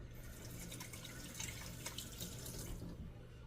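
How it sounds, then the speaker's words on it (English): Water running from a kitchen faucet into a sink while hands are rinsed, a soft continuous splashing stream with slight fluctuations, fairly quiet and alone. "let me rinse my hands real quick over here"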